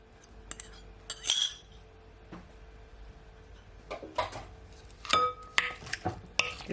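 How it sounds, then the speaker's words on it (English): Shrimp mixed with a raw egg in a bowl give scattered clinks and taps of a utensil against the dish. The sharp strikes come in irregular clusters over a quiet background. "Give it a stir."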